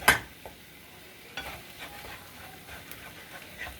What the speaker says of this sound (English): And stir. Stir till the egg gets cooked.